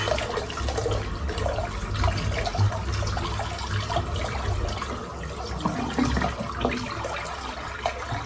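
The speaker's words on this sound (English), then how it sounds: "I'm just going to empty that sink out again." Water drains steadily from a sink, a continuous gurgling rush with small splashes and trickles throughout, fairly close.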